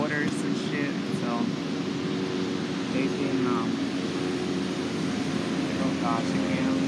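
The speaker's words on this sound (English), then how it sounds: "Like, there's helicopters everywhere." Helicopters flying overhead in a city make a steady, loud rotor and engine drone that fills the whole stretch, with a few faint chirps and a talking voice mixed in.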